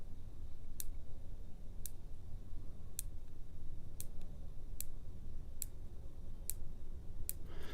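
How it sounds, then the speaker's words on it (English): Crisp, evenly spaced clicks from the windage and elevation turrets of a CVLIFE 4-16x50 AO rifle scope, about eight detents turned one by one over a steady low background hum. "there is a click where it actually stops between every single one, and it's very audible"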